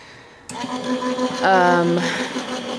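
An electric die-cutting machine feeds card dies on a magnetic mat through its rollers, starting abruptly with a close, buzzing mechanical hum that swells midway and keeps running steadily.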